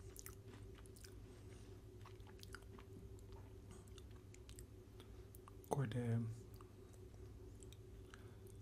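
Someone bites into a sugar-sprinkled Sunfeast Bourbon Bliss chocolate cream biscuit, giving one brief, close crunch and chewing amid quiet room noise, with a few softly spoken words.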